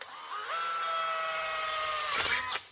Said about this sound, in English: and we'll drill.